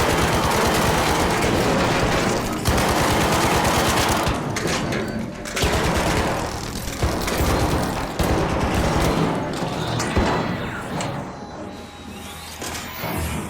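Dense video game gunfire rattles almost nonstop as players shoot at buttons in Arc, with loud bursts and mechanical clatter layered together and brief dips between volleys.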